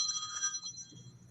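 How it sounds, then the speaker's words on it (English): A phone rings with bright repeating electronic tones through most of the moment, fairly close and fading toward the end over a low background rumble, with no speech. "for some reason my phone is ringing"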